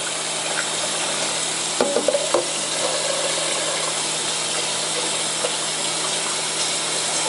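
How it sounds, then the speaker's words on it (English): A pot being washed at a sink, with steady running water forming a loud, even wash of noise and a few brief clinks and scrubbing knocks near the start. "let's wash the pot."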